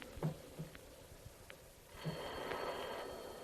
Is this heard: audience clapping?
no